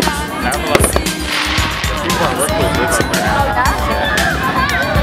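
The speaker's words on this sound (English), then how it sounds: "There's just a big ass fireworks behind you." Fourth of July fireworks crackle and pop in dense, rapid bursts amid a noisy outdoor crowd, with people talking and shouting throughout.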